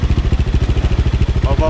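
A Gamma 200 motorcycle fitted with a Villain exhaust idles close by in a steady, loping pulse of deep thumps, loud and even throughout.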